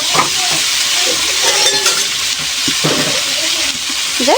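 A little water goes into a pan of frying eggplant and taro curry, setting off a loud, steady sizzle with stirring scrapes and brief clatters over about four seconds.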